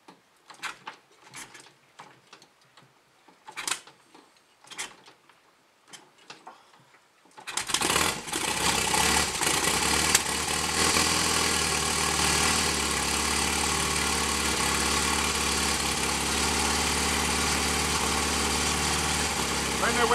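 Royal Enfield Constellation motorcycle with a wet-sump oil leak, first a few scattered mechanical taps and clicks, then the engine catches and settles into a loud, steady idle that runs continuously for over ten seconds.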